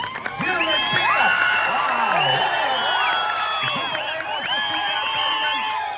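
A crowd at a kabaddi match claps, cheers and whoops continuously, with excited shouting voices throughout.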